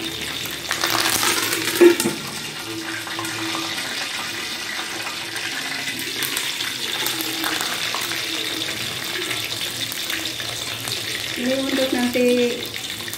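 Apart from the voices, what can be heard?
frying curry leaves in oil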